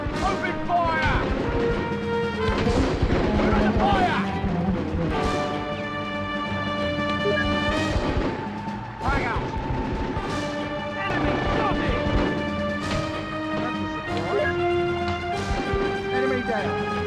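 Gunfire and explosions in the PS2 video game Full Spectrum Warrior, with repeated sharp bangs and booms scattered over a busy bed of music and effects, and voices calling out in between.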